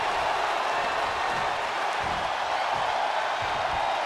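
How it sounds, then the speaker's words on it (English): Capacity arena crowd at a wrestling match roaring steadily as a broad, continuous wash of noise, with applause mixed in and no pauses. "you hear this capacity crowd following you on that journey"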